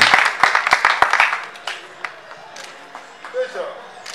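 Applause at a diploma ceremony at a Kinshasa training centre: a short burst of sharp, scattered hand claps fades quickly, leaving a voice talking in the room.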